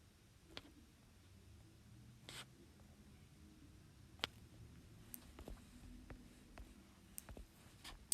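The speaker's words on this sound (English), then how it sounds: "Go ahead and take a second and draw your net." Pen drawing a prism net on paper: faint, scattered scratchy strokes and light taps, irregular and close, alone against a quiet background.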